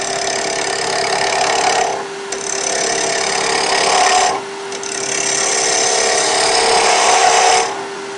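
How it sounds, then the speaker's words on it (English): A spindle roughing gouge cuts wood on a lathe while turning wooden peg people, a loud hissing shear in three long passes separated by brief pauses, with no talking. "I'm going to start with a spindle roughing gouge. Anchor, bevel,"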